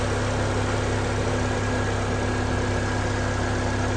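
A 2008 Pontiac Solstice's fuel-injected Ecotec 4-cylinder idles steadily up close, an even mechanical hum with a faint whine over it and no voices.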